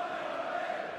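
Big darts crowd cheering and roaring for the Dutch player Raymond van Barneveld at a Premier League of Darts match, a brief, steady wash of crowd noise at moderate level.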